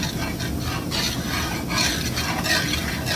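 Flour stirred into hot oil in a pan for gravy, a steady close scraping and sizzling hiss with rhythmic stirring strokes, loud and continuous.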